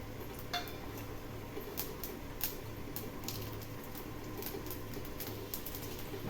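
Mustard seeds and urad dal crackle in hot oil for a baby jackfruit poriyal tempering, giving a steady faint sizzle with scattered sharp pops and ticks throughout.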